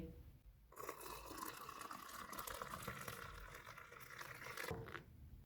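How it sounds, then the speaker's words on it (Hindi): Hot frothed milk is poured into a cup of coffee for a cappuccino, a steady trickling and splashing stream of liquid that starts suddenly, runs for several seconds close up, and then stops. "इसमें दूध डालेंगे"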